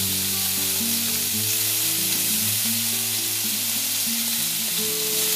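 Ground meat for shepherd's pie frying and browning in a pan, a dense, steady sizzle with a constant hiss and low hum and no pauses or voices.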